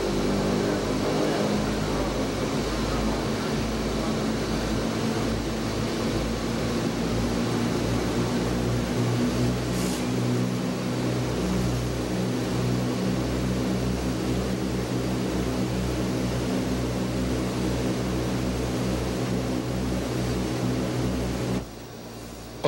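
Piston engines of a fully loaded DC-6 propeller airliner at full takeoff power, a loud, steady, droning roar that holds throughout the takeoff run and drops sharply just before the end.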